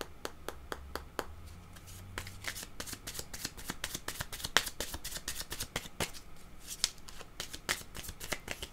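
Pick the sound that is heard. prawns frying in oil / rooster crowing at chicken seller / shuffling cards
shuffling cards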